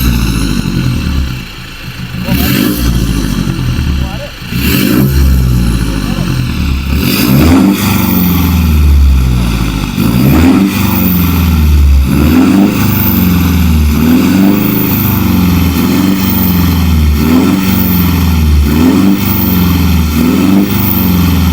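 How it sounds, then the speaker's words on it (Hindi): A modified Mahindra Thar diesel SUV with a custom exhaust drones loudly and deeply while driving, with repeated rising revs as it shifts through gears, close and continuous. "अब मैं आपको दिखाता हूँ इसकी हाईवे परफॉर्मेंस कैसी आवाज़ आती है"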